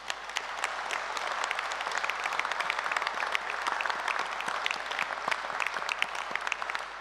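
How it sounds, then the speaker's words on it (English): Graduation audience at Edinburgh Napier University giving a sustained round of applause, a steady dense patter of many hands clapping, moderately distant and even throughout with no talk over it. "Let's offer a heartfelt round of applause to all of you"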